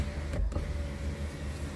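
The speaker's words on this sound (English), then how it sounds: "I thought just pop the windows would be a little bit easier" Power windows on a Toyota Corolla ZR sedan run with a quiet, steady electric motor hum, heard from inside the cabin over low road and interior rumble, with a brief thunk partway through.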